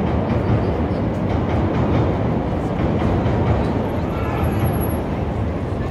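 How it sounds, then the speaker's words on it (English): A Chicago elevated L train rumbles past loud and close on a downtown street in Washington area, a continuous heavy roar with rhythmic rattling wheels throughout. "I just love the sound and the sight of the Chicago elevated trains here"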